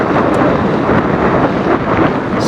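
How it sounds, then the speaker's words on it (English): Steady, loud wind buffeting a microphone, a continuous low rumble and roar with no pauses and no voices. "Oh, so windy."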